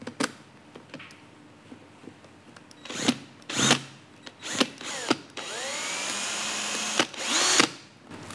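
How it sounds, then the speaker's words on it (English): A power drill whirs in several short bursts, then runs steadily for a couple of seconds before a final spin-up; close and loud. "We will use the drill to do the job."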